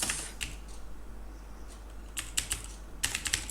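Code being typed on a computer keyboard: scattered bursts of quick key clicks with short pauses between them, close and fairly quiet, with no talking.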